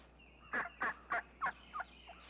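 A wild turkey gobbler parading in front of hens gobbles in a series of five rapid, fluttering bursts that trail off into a faint sixth, fairly clear against quiet open surroundings.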